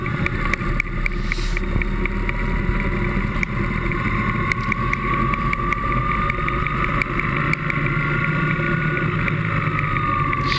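A BMW R 1100 GS motorcycle engine idles as it warms up, a steady, close, continuous rumble with a faint light ticking from a slightly loose injector throttle valve and some wind buffeting across the microphone.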